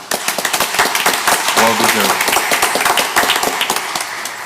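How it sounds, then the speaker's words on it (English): Applause from staff at a school district board meeting, a dense run of clapping lasting the whole moment, with a voice speaking briefly over it. "I want to give you a round of applause for the great work"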